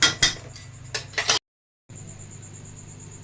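Chilli chicken is stirred in a pan with a metal utensil, giving several quick, close clinks and scrapes in a short burst, then a sudden silence before a thin, steady high whine and faint room hum take over.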